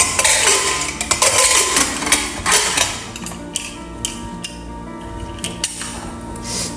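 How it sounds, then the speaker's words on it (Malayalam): Metal clanks and clinks as a pressure cooker lid is fitted and locked shut, a cluster of sharp knocks followed by a few sparse taps. "ഇനി നമുക്ക് ഈ കുക്കറിനെ നമുക്ക് ക്ലോസ് ചെയ്യാം"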